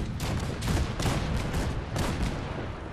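Cannons firing in Fallout 4, a rapid volley of several loud, close booms in quick succession with rumbling tails, no talking.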